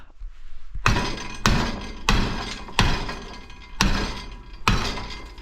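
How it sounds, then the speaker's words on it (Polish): Heavy hammer blows strike a hard wall six times at a steady pace, each a loud sharp crack followed by crumbling debris. "Mam nadzieję, że to się podda pod młotkiem"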